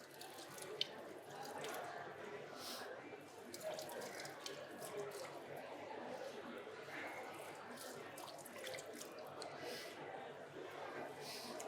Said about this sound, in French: je rince mes filets de poisson